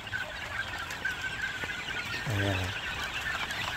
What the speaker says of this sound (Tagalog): So yan ang ating munting manukan.